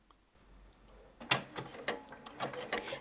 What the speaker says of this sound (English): for the skirt back, I will be running gathering stitches across the width